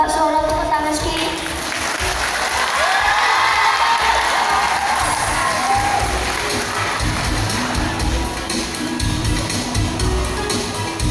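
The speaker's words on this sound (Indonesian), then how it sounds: "Minta suara tepuk tangan sekali." Audience applause and cheering from a crowd at a school performance event, a steady broad wash of clapping lasting throughout, with some shouts mixed in.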